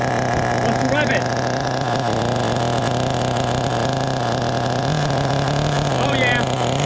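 A nitro RC car with an OS 18 CV engine, bought used, being revved: loud, constant high-pitched engine buzz close up, with brief throttle rises and a voice speaking over it.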